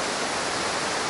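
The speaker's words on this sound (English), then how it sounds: "here's a waterfall for you" A waterfall pours into a river in the woods, a dense, steady roar of rushing water heard close and loud throughout, with no voices.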